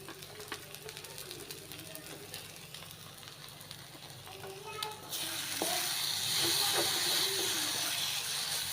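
Vegetables fry and are stirred in a pan for a Bengali dish. A soft, low sizzle with scraping stirs swells midway into a louder, continuous hissing fry that carries on to the end.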